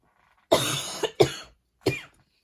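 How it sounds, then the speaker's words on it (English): Three harsh coughs close to the mic, the first two in quick succession and the third after a short pause, with silence around them. "excuse me, coughing"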